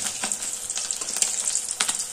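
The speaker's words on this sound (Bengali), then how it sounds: "গ্যাসের ফ্লেমটা লোতে রেখে মাছগুলোকে আস্তে আস্তে উল্টে পাল্টে ভেজে নেব।" Fish frying gently in oil over a low gas flame, a steady soft sizzle with faint scrapes and small crackles as the pieces are turned, close and continuous.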